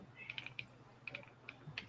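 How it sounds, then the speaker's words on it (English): Someone types on a computer keyboard, giving a faint, quiet run of light key clicks in small irregular bursts with short pauses between them. "I was typing to Melissa"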